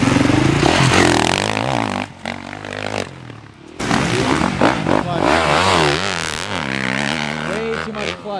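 A motocross motorcycle revs hard as its rider, back on a bike after 15 years off, slips too much clutch during a lesson. The engine is loud and near, with the revs rising and falling, briefly dropping, then surging again.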